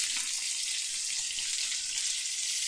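Fish frying in oil in a pan for a morning meal, a steady, dense hiss and crackle of sizzling close by that continues evenly throughout, with no talking.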